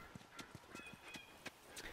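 Horse hooves clip-clopping on the ground in The Last of Us, a steady, moderately close rhythm of distinct hoof falls over faint background ambience, with no talking.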